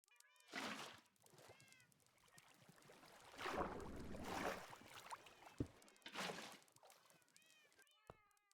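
Cats meow repeatedly in a modded Minecraft game, several drawn-out mews at intervals among bursts of water-like game noise, with no talking.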